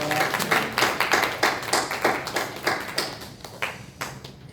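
A congregation at an afternoon praise service in a church claps together in a loud, close burst of applause, its beats coming in quick, roughly even pulses that slowly fade.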